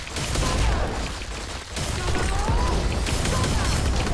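Gunfire from a gun-class character in the Blade & Soul video game, a loud, busy barrage of shots and impacts with a short dip in the middle, running continuously throughout.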